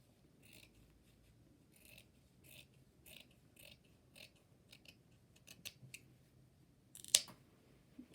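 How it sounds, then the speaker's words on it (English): Sharp scissors cut across a fold of fabric while scalloped edges are trimmed for slow hand stitching, making a series of quiet, close snips at an uneven pace that ends in one louder, crisp cut, with no talk. "So I'm going to cut across that fold."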